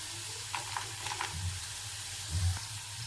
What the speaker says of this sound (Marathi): मी आता शेंगदाणे घालत आहे.